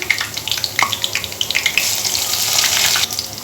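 Whole garam masala crackling in hot oil with browned onions in a pan: busy sizzle and sharp spits and pops that settle into a denser hiss partway through, close and fairly loud, no talking.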